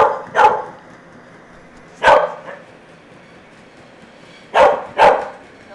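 A dog barks four times, close and loud, as one bark, another, then a quick pair, with quiet pauses between.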